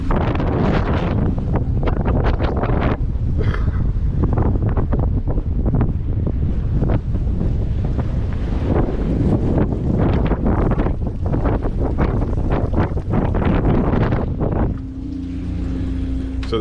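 Gale force wind roaring across an anchored boat at Normans Cay, loud constant buffeting against the microphone with gusts and sloshing water, easing briefly near the end.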